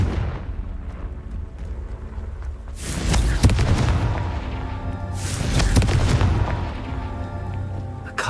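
Confringo fire spell explosions in the video game Hogwarts Legacy: two loud, rumbling blasts a couple of seconds apart, each swelling and then fading into a crackling tail.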